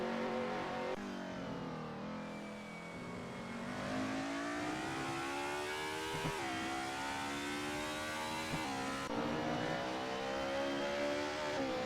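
Race car engines roar continuously in a sim racing game during a 1990s DTM championship race at the Red Bull Ring, the loud engine note rising and falling through revs and gear shifts, with no talk.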